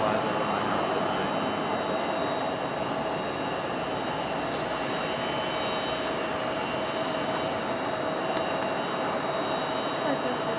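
An Airbus A321 jet at Raleigh Durham airport makes a continuous, moderately distant engine roar with a steady whine, and faint voices sit under the drone.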